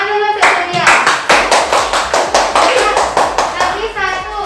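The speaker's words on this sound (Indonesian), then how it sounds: "Tepuk tangan dulu untuk Surya." A fourth-grade class claps in unison, rhythmic sharp claps in an even beat, with children's voices mixed in among the hands.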